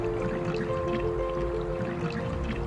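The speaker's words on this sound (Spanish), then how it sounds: "el agua también está corriendo entre el hielo y la roca" Glacial meltwater running between ice and rock in Argentine Patagonia, a steady close trickling and gurgling flow with faint drips and a low constant rumble throughout.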